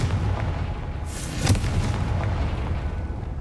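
A Confringo spell explodes in Hogwarts Legacy, a single booming blast with a bright crackling burst midway through. It rises over a steady rumbling game ambience and then fades back into it, with no talk.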